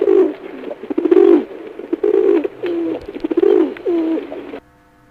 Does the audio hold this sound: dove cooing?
yes